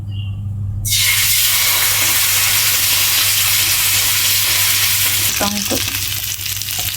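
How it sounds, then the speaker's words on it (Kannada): Fish frying in a pan, a loud continuous sizzle that kicks in abruptly after a second and crackles steadily for the rest of the clip, close and dominant, with a brief clink near the end. "ಮೀನು ಫ್ರೈ,"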